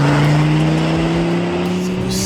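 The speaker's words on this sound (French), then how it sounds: "Et là, je passe la 5, et ça repousse." Audi RS2 engine pulling hard in fifth gear, a loud steady in-cabin drone whose pitch climbs slowly and continuously as the car accelerates.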